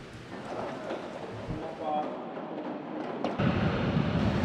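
Heavy rain pours and strong sea wind roars at Batangas Port during a storm, a dense continuous wash that swells louder toward the end, with a voice talking over it.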